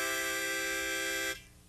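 A steady three-note harmonica chord held for over a second, then cut off abruptly, leaving a faint airy tail.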